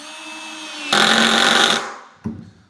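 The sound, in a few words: VAP cordless screwdriver running at speed 1, torque 1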